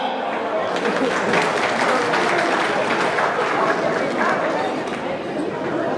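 Guests applaud at a wedding celebration, a continuous crackle of clapping that runs for six seconds while voices talk and chatter over it.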